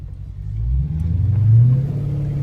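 A 2013 Chrysler 300C Hemi, rear-wheel drive with traction control off, revs hard as its wheels spin on snow: a loud, low engine rumble that swells and holds steady throughout.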